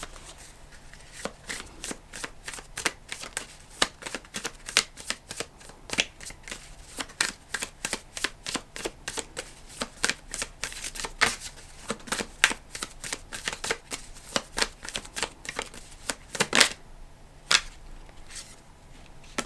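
An Animal Apothecary oracle card deck is shuffled close by, with rapid crisp riffling and snapping bursts repeated throughout, alone and without talk.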